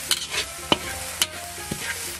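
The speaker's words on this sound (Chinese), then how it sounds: "洋葱末，都给它们炒香了，炒到微微发黄" Minced onion with ginger stir-fried on a teppanyaki griddle: a steady sizzle with sharp scraping strokes of a spatula at a slow, irregular rhythm, close and moderately loud, no talking.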